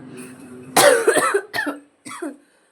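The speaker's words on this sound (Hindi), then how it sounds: "खांसी बहुत ज़्यादा प्रॉब्लम हो गई।" A close, harsh cough followed by a couple of shorter coughs, the last after a brief pause, with faint background hum before it.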